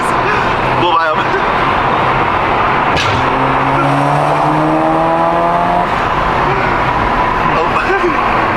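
Volkswagen GTI with front-wheel drive accelerating hard in a street race, its engine note rising through repeated upshifts in a loud, close sweep while excited voices shout over it.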